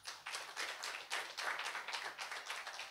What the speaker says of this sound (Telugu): ఒక క్లాప్ కొట్టకూడదా?